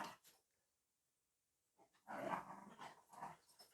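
Dogs growling and grumbling nearby indoors in short rough bursts after a quiet pause, with no talking over them.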